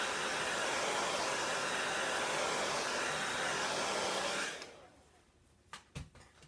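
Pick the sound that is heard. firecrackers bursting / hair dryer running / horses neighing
hair dryer running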